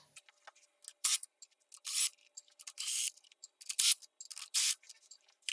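Retaining bolts are removed from the faceplate of a Sawyer saddle machine: soft, close, intermittent scraping and ratcheting bursts of metal on metal in an irregular rhythm, with quiet gaps and no voices.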